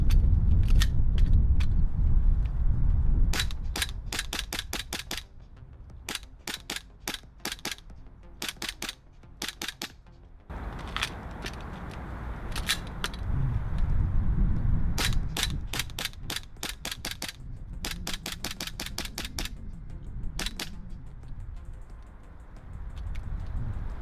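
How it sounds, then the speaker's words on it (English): Asia Electric F17 gas blowback airsoft pistol with metal slide firing many sharp, snappy shots, singly and in quick strings, over a steady low background rumble; no talking. "Shooting the F17 reveals a delightfully snappy recoil sensation"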